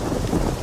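Steady rain and a low rumble of thunder in the King Arthur Project Tomb Raider level, a continuous loud wash with no voices.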